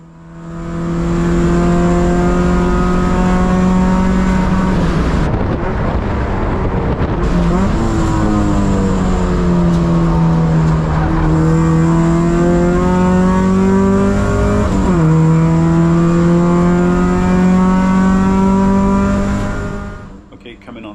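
A four-door sedan race car at speed during a 24 Hours of Lemons endurance race at Gingerman, its engine note loud and close, rising and dropping through repeated upshifts and throttle lifts.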